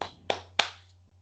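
A few sharp hand claps ring out about a third of a second apart after a lecture on maintenance and automation, each fading quickly over a steady low electrical hum, with no voices.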